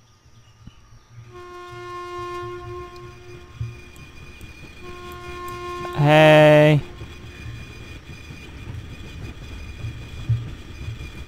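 A train in the video game INFRA sounds a long steady horn, then a loud sharp blast midway, with a low rumble of rolling cars underneath and a brief spoken word.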